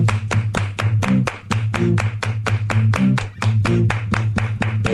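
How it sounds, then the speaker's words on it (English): Rhythmic hand clapping in a steady beat over a bass-heavy music track on a radio show, many evenly spaced claps throughout. "Everybody clap your hands."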